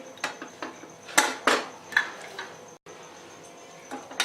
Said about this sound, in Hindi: आइए कुकर को अब हम खोलेंगे।